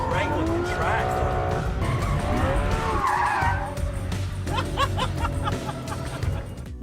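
Race car lapping a track at speed, engine roaring steadily with tires squealing and skidding through corners, loud and close, while people talk and laugh over it.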